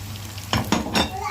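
Chicken pieces drop into a hot pan of softened onions, giving a few quick sizzling bursts and stirring scrapes over a low steady frying hiss.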